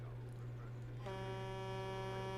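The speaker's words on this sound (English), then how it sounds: "Stop honking!" A sustained honk sounds in the Jurassic World Evolution 2 video game, a steady buzzing, horn-like tone that starts partway through and holds to the end over a low constant hum, with no talking.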